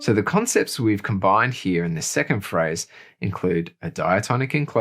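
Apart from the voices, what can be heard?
No everyday noise stands out behind the speech.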